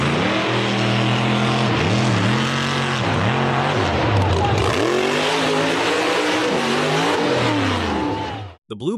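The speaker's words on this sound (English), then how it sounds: "blue buggy accelerated hard on the muddy dirt track, powering through several small dusty hills" Blue off-road buggy engine accelerating hard on a muddy dirt track over small dusty hills, loud and close, its pitch rising and falling in repeated revving surges before cutting off at the end.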